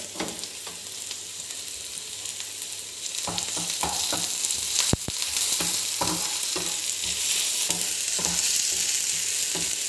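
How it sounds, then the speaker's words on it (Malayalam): Grated potato and egg curry ingredients sautéing in a pan for a restaurant-style egg curry, a steady loud sizzle with repeated scraping stir strokes throughout, no talking. "ജസ്റ്റ് ഒന്ന് വഴറ്റിയെടുക്കുക കേട്ടോ."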